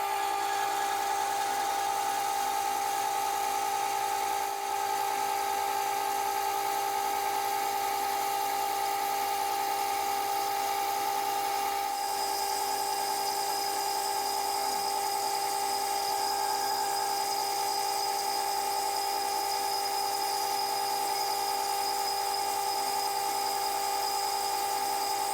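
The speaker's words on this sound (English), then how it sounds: "I'll drill and tap for the 6mm in this point here." A drill bores a hole in a metal locknut before tapping for a 6mm thread, a steady continuous whine that holds level for the whole stretch and shifts slightly partway through, with no talk.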